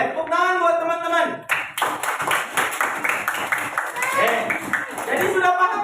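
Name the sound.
children clapping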